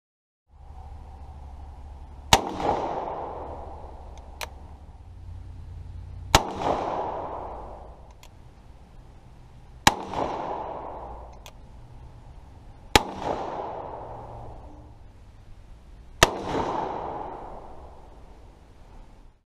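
Six loud, sharp shots from a Remington revolving carbine, fired a few seconds apart at a long-range target outdoors, each crack followed by a fading rumble of echo.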